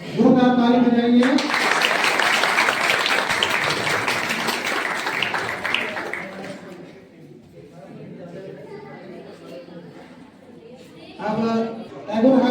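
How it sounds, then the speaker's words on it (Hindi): Loud crowd applause and clapping at a school sports and farewell award ceremony, bursting in and sustained for several seconds before fading under chatter, with a voice speaking over it at the start and end. "जोरदार ताली बजाइए।"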